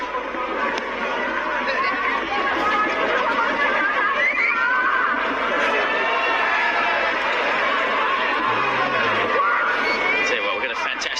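A cricket stadium crowd at a Hong Kong Super Sixes final between Pakistan and South Africa keeps up a steady, dense roar of cheering and chatter, filling the whole stretch with a busy, humming wash of many voices.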